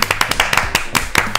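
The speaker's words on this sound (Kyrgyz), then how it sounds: "биз дүркүрөгөн кол чабуулар менен чакыра берет окшойбуз" An audience claps in a quick, even rhythm to welcome a singer onto a stage, with sharp, close hand slaps that beat steadily through the moment.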